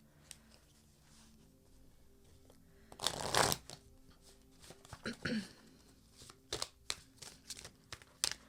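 Oracle cards being shuffled at a tarot reading table: a loud burst of riffling around the middle, then a string of quick, crisp card slaps and flicks, close up, with a faint voice murmuring beneath.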